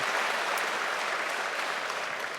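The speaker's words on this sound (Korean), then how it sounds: "박수 한번 할까요?" A church congregation claps together in steady, dense applause at a worship service, even and sustained for the whole stretch with no voices above it.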